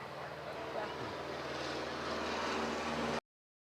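A 1929 biplane, four-passenger, taking off with a steady droning propeller engine roar that builds slightly in loudness, continuous and fairly close, with voices faintly mixed in.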